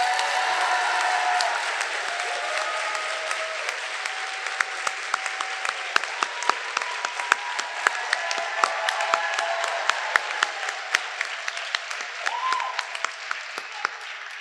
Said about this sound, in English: If everyone would please give a huge round of applause to the best substitute teacher we could have asked for